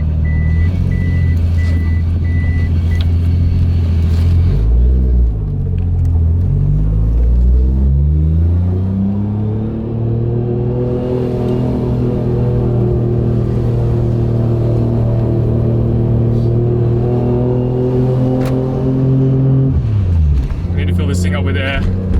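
A Toyota Chaser with a big-turbo 1JZ engine being driven on the street, heard from inside the cabin as a loud, deep drone that rises and falls through gear changes, with revs sweeping up steadily in one long pull.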